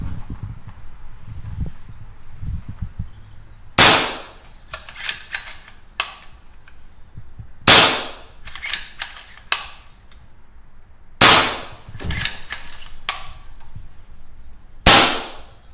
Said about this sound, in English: I'll just fire a few shots.